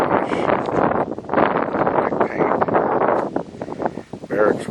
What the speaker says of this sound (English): Hope you can hear me above the wind.